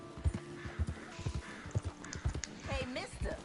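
Horse hooves clip-clopping in the video game Red Dead Redemption 2, a steady rhythmic series of close thuds with a voice speaking over them.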